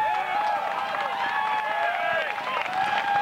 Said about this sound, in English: he gets a good cheer for a good effort